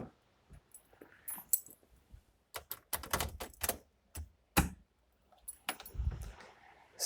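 A battery pack's mid-pack contactor clicking as the key is turned on, heard as a close series of sharp mechanical clicks and small rattles with short quiet gaps between them.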